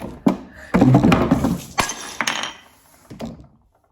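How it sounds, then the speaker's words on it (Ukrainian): A ceramic cup knocked over and shattering into small pieces gives a burst of sharp clinks and clatter, then scattered fragments tinkling and settling for several seconds before it falls quiet. "у мене тут стояла чашка, і все розлетілося на маленькі"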